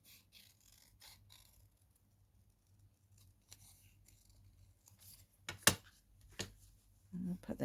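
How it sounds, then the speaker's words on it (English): Scissors snip through a paper scrap while fussy cutting, a few sharp close snips standing out against a faint, quiet background, with soft handling noise around them. "I'm going to fussy cut this out"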